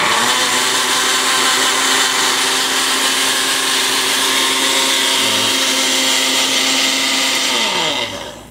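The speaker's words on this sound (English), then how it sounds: "I'm going to do a little blending" A blender whirs through tomato sauce with a steady, loud motor drone that holds for several seconds, then winds down at the end, with no talking.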